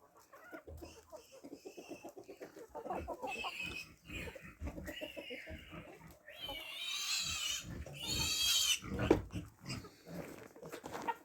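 A piglet held up by its hind legs for castration squeals loudly and shrilly in rising bursts, close by, with farm background noise and brief human voices.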